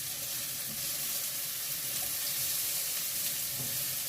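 Zucchini fry in a pan for a squash spread, giving a steady, soft, even hiss of sizzling oil that continues without pause.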